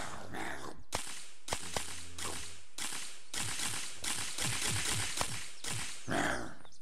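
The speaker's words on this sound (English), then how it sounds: "That's a very cool suppressor sound." Suppressed Kriss Vector shots in the video game Unturned, fired semi-automatically as roughly nine sharp, whip-like cracks in an irregular sequence, with mechanical clatter between them.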